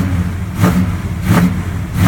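A 1970 Mercury Cyclone Spoiler with a 429 Cobra Jet V8 and factory four-speed, revving in cold weather, its loud engine rumble swelling in three repeated throttle blips over a steady idle, with no talking.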